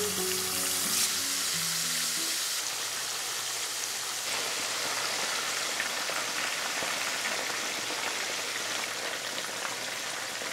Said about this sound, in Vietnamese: Cho sườn vào chiên với lửa vừa.